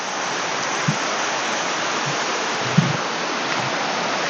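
Waterfall at Pha Kluai Mai in Khao Yai, a steady broadband rush of falling water that stays loud and even throughout, with a few faint low knocks underneath.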